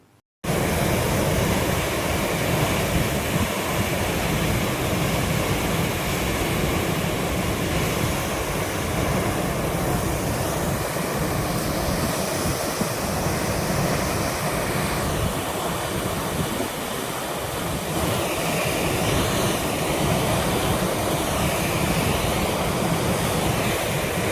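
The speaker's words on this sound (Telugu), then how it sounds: "కొండవీటి వాగు ఎత్తిపోతల పథకం నుంచి మోటార్లు వదిలి వరద నీటిని కృష్ణానదిలోకి వదులుతున్న అధికారులు" Floodwater discharged by motors from the Kondaveeti stream lift scheme into the Krishna river roars as a loud, steady broadband rush, continuous throughout with no voices.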